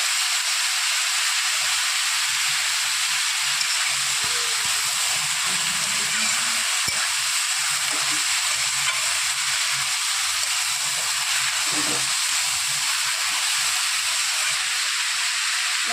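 Banana stem fried slowly with turmeric: a continuous close hiss and sizzle with a faint low rumble beneath.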